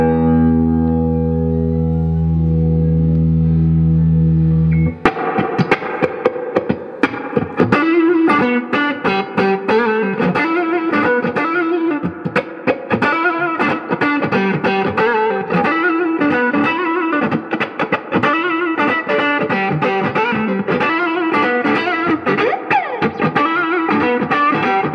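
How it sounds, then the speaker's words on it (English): A sustained tone gives way to a rhythmic, strummed 1955 Fender Stratocaster through a Fender Deluxe Reverb tube amp on the neck pickup, with heavy distortion and chorus-like shimmer, playing steadily and loudly throughout. "here I am now in 2021 playing this 1955 Fender Stratocaster"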